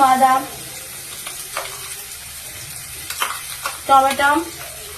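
Pointed gourd seed filling for a coconut-stuffed dolma fries in a pan with steady sizzling, broken by several scraping strokes of a spoon stirring it. The stirring bursts are louder near the start and end.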